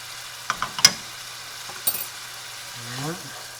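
Tomato paste being stirred into a sizzling pan: a few quick scrapes and taps of a utensil over a steady low sizzle, close by, with a softer stir sweeping through near the end.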